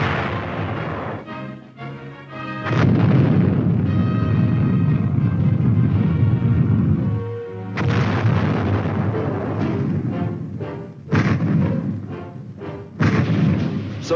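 Heavy artillery fire from airborne infantry support weapons in a military training film, with loud repeated booms and sustained rumbling bursts across the whole stretch, some sections dense with overlapping blasts.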